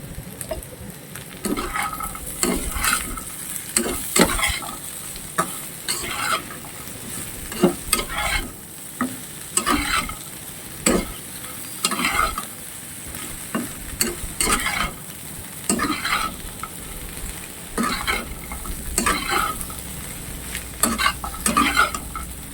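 Small Sundarbans field crabs cooking with potato and okra in a pan: a steady frying sizzle with repeated scraping spoon strokes at an irregular rhythm, close and fairly loud, with no voices.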